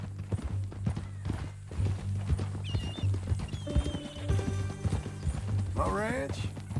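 Steady clip-clop of horse hooves at a walking pace in Red Dead Redemption 2, with a low rumbling hum underneath and a brief whinny-like cry near the end.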